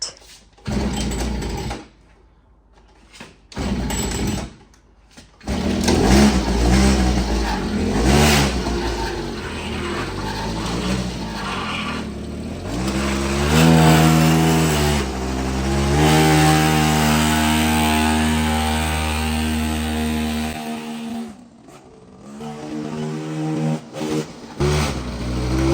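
A poorly running pocket bike's small engine buzzes and revs unevenly during a quick ride, its pitch rising and falling, cutting out in short gaps at first, then holding a steady loud whine before sputtering and dropping off.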